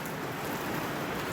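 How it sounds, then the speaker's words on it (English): Steady rain falling outdoors at dawn in Sikkim, a continuous soft hiss of drops without breaks, fairly quiet and evenly spread. "So yeah guys, it's raining."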